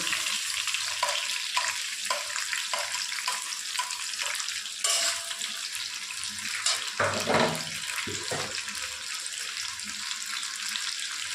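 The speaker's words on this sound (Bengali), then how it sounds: "এবার চিংড়িগুলোকে এর মধ্যে দিয়ে এখন ভেজে নেব।" Shrimp fry in a pan with dried chilli and nigella seeds, a close, bright sizzle with repeated stirring scrapes and spatula knocks, with no voices.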